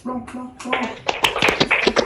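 A voice sings a children's song briefly, then several quick hand claps ring out in a lively rhythm alongside the singing.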